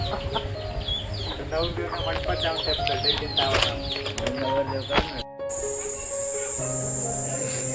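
Chickens and chicks cluck and cheep close by in a busy, overlapping flock on a village farm under mango trees, with insect chirring behind; the sound cuts abruptly midway and a steady background hiss follows.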